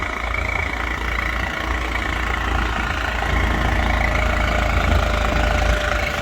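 A 42-horsepower tractor engine labours in heavy soil, a loud, steady low rumble that strains and bogs toward stalling, continuous and close with no talk over it.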